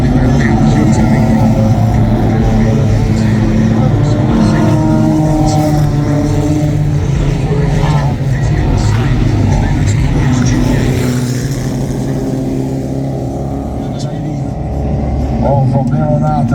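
Junior hotrod race cars lap a circuit, their engines droning and revving in a steady, loud roar as the field passes, with a commentator talking over the noise throughout.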